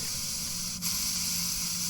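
Spray bottle spritzing during a cleaning task in a video game: one short, steady hiss that fades and swells again, with continuous airy noise throughout and no voices.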